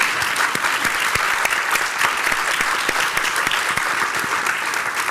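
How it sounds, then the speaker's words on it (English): An audience at an adult education summit gives a round of applause, steady loud dense clapping filling the room continuously without pause. "Please give them a round of applause"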